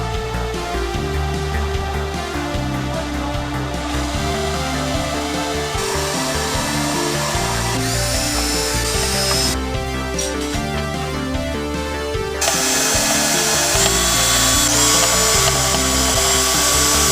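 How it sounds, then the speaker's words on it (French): Power drill boring two holes into a Suzuki GS 500 motorcycle engine case during a cafe racer build, a loud continuous whine with shifting pitch and brief changes in load, running steadily without talk. "maintenant on va percer deux trous et on va les joindre"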